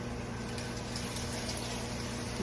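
Canned red beans and their liquid poured into a cooking pot, a steady wet gushing and sloshing that stays faint and continuous throughout.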